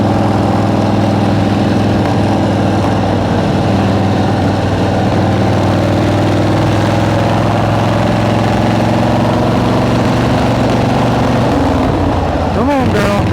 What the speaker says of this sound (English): the old John Deere tractor